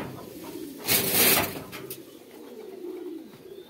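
Pigeons coo softly at moderate distance, a low burbling call repeating under a faint outdoor background with a brief louder rustle near the start.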